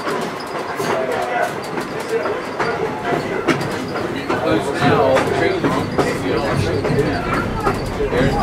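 Strasburg Railroad #90 train riding along the tracks, a steady loud rumble with clattering wheel noise throughout, while voices talk over it.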